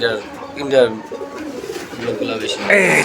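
Pair of rare fancy pigeons cooing close by in soft, rolling repeated coos, with people talking over and between the calls.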